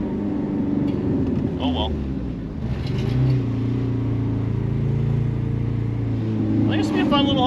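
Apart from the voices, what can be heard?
1983 Turbo Coupe engine revving at wide open throttle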